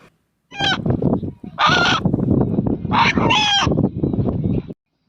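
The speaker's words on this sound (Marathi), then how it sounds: "हा कोंबडा अण्णा या नावाने हाक मारतो आहे" Rooster crowing in the Satara district, said to sound like calling "Anna": several loud, close crows in quick succession, each with a sharp rising-then-falling tone, separated by short pauses.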